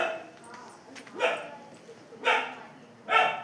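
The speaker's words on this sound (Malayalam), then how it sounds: "പട്ടി കുരയും ഉണ്ട്." A dog gives three separate barks, moderately near and about a second apart, each standing out against an otherwise quiet background.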